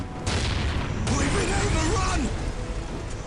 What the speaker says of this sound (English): I didn't mention the Earthshaker cannon the Basilisk has before, did I?